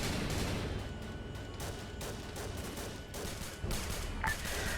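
Rapid gunfire in the Vietnam-era Arma 3 game, with sharp repeated shots and bursts crackling over a continuous battlefield rumble at moderate distance, fairly quiet overall.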